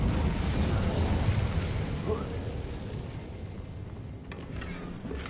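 An Incendio fire spell cast in the Hogwarts video game, a loud rushing burst of flame that whooshes and rumbles, then fades over a few seconds, with a voice speaking over it.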